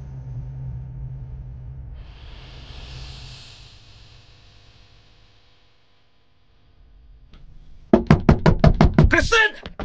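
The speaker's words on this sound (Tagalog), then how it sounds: "bigla siyang nakarinig ng malakas na katok sa pinto" Loud, rapid knocking on a house door near the end, a burst of sharp repeated raps following a quieter stretch of low rumble and hiss.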